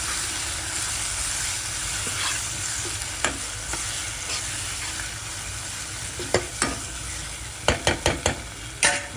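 Chopped tomato stirred into a sizzling masala for a bottle gourd dalcha, steady frying hiss with scraping stirs that turn into a quick cluster of sharp clacks toward the end, close and without talk.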